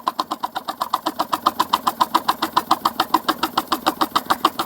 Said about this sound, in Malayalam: പോകുമ്പോഴത്തേക്ക് എഞ്ചിൻ്റെ സ്പീഡ് കുറയുന്നത് കാണിക്കും